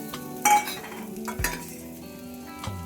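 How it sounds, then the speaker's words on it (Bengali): Garlic paste frying in a pan while being stirred, with a soft steady sizzle and a few sharp scrapes and clinks of the utensil against the pan, close by and with no talking. "এবার এইটাকে ভালো করে আবারও ভালো করে ভাজা করে নেব"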